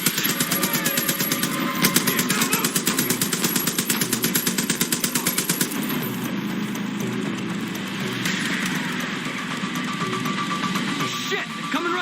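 Rapid turret gunfire in the Far Cry New Dawn video game, a fast, steady burst of loud repeating shots for about six seconds, then a rumbling engine-like roar as the firing stops.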